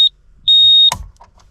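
A tyre inflator's high electronic beep sounds twice when finished, a short chirp then a longer tone, followed by a clunk and faint handling noise.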